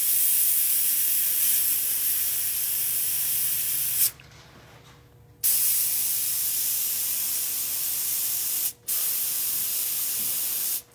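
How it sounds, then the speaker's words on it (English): Paint thinner blasts from a sprayer onto a taxidermy pike to strip its paint, a loud, steady hiss that cuts out for two short pauses. "I'm doing nothing but spraying thinner, almost like sandblasting the paint off."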